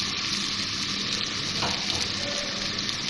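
Egg korma masala fries in a pan with a splash of water, giving a loud, even, close-up sizzle throughout, with a brief stir scrape partway and no voices.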